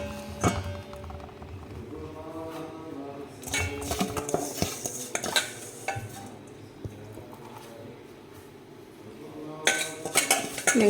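A spoon scrapes and clinks against a metal pan while fried vermicelli filling is spooned in for kunafa, with scattered taps and clatter and a quieter stretch in the middle.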